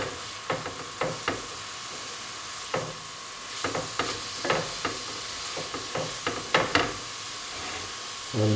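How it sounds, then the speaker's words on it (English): Beef with black pepper and spices stirred in a hot frying pan over low heat, a soft steady sizzle broken by repeated scraping clicks of a utensil against the pan at an irregular pace. "give this a mix round, just to mix the spices through with"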